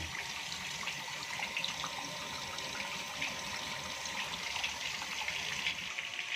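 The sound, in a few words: water draining out of activated carbon water filter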